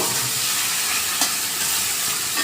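Water poured into a sizzling, oil-separated tomato gravy for a spicy bhola fish curry, producing a loud, continuous, close hiss and sputter with a brief stirring clink.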